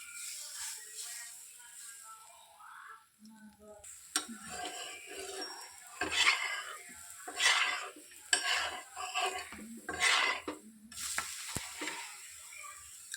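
Moong dal batter hitting a hot griddle and being spread out, with a soft sizzle and repeated scraping and clinking of a spatula in irregular bursts, close by with no talking.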